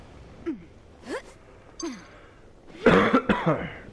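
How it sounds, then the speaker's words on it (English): A person coughs a few times, with several short separate coughs spaced out in the first half. A louder, harsher run of coughing and throat clearing follows near the end, close to the mic with no talk. "I'm gonna be coughing a little bit."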